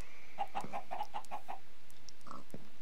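Chickens in Minecraft cluck in a quick rhythmic series of about seven short calls, followed by a couple more scattered clucks, fairly clear over a quiet background.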